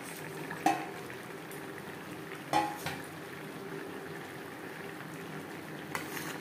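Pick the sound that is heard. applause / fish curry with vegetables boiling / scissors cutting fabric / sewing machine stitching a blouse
fish curry with vegetables boiling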